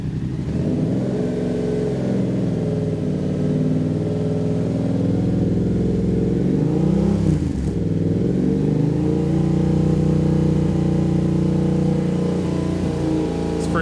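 A 2022 Yamaha R7 fitted with a Titan GP2 full twin exhaust, its engine droning steadily while riding, with one rising and falling rev swell midway, loud and continuous throughout.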